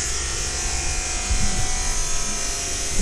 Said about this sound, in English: I'm gonna put 4 screws like that.